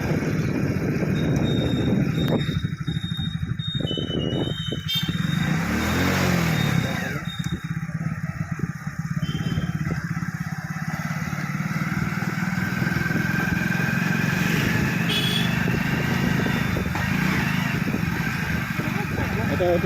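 A motorcycle runs during rider training, its engine droning close and steady with revs rising and falling through gear changes, while an instructor talks throughout.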